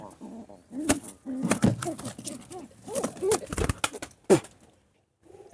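Pigeons in a coop where two pairs are laying eggs coo in soft, low, repeated throaty phrases close by, with occasional sharp knocks and rustles between calls and a brief quiet stretch near the end.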